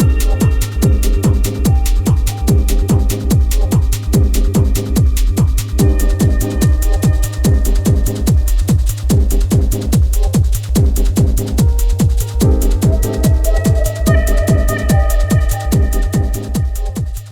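Techno track made in Ableton, built on a steady four-on-the-floor kick with layered synth and percussion parts, loud and continuous with no voices.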